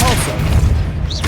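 Depulso spell cast in Hogwarts Legacy, a short booming magical blast with a thud, loud and dense against steady game sound, with a voice present.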